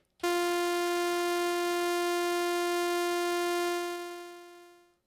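A single sustained synthesizer lead note, bright and buzzy with rich harmonics, holding steady for about four seconds before fading out.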